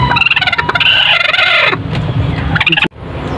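Chinese breed hens on a small egg farm clucking and squawking loudly near the microphone in quick irregular bursts, ending with a sudden cut.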